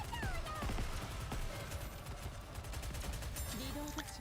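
Heavy gun fire in the Nikke video game, a dense run of shots with a big recoil, layered with other game sounds and effects at a steady loud level.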